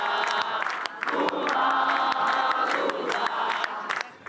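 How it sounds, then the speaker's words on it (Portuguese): Crowd cheering and applauding as Brazil's president-elect Lula leaves the stage after a speech, a dense, steady roar of claps and shouts with scattered whoops that swells and holds throughout. "O presidente eleito deixou o palco sob aplausos."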